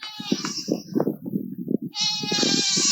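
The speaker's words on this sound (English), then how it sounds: "over here, they have goats, lots of goats" Goats at a wildlife park bleat loudly and close, with a series of rapid wavering calls followed by a long, sustained bleat, and no talking.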